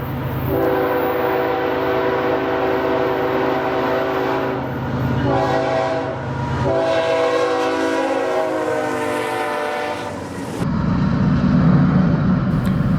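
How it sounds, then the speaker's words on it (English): BNSF ES44C4 diesel locomotive hauling train 221 around a sweeping curve toward a downtown area, with steady engine drone and wheel noise throughout and a loud horn blast sounding near the end. "BNSF 4265 is a ES44C4, and this was the catch of the day on train 221."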